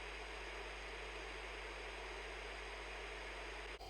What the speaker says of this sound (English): That's not a heartbeat. It's white noise.